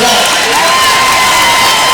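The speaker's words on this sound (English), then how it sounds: "And you can hear the crowd now." A crowd at a Three Rivers Raiders high school basketball game cheers and shouts loudly and continuously, a dense roar of voices with whoops rising through it.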